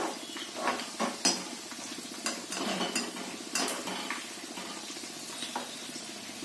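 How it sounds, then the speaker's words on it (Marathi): Cabbage bhaji pakoras with cut green chillies frying in hot oil, a steady bubbling sizzle with occasional utensil clinks and stirring scrapes, close and continuous with no talking. "मिरच्या आहे ना ह्याच्यात भज्यांमध्येच घालते, म्हणजे त्या तळल्या जातील"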